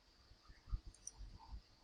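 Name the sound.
computer mouse clicking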